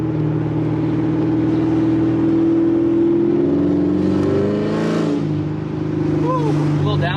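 A C7 Corvette fitted with headers and an X-pipe exhaust, running in manual mode, rumbles loudly and steadily, then downshifts with a couple of brief revving blips near the end. A voice talks over the engine throughout.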